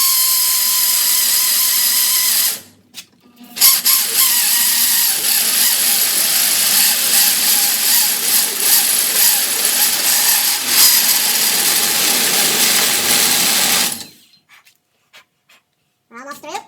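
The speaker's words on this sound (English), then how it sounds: "I have just put a little bit of oil on the end of this bit, this hole saw bit, and we've got the exhaust here. We're going to go to town." A power drill fitted with an oiled hole saw bores through a Harley-Davidson Sportster exhaust baffle in a loud, sustained grinding whine that runs for about ten seconds, stops once briefly, then cuts off into near silence.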